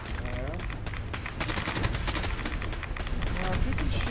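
Rapid gunfire bursts from the game Fallout 4 during a reactor chamber security lockdown, dense crackling shots layered over game music and effects, continuous and fairly loud throughout.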